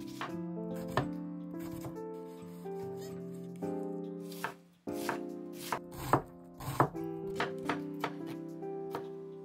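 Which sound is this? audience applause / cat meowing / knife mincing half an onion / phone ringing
knife mincing half an onion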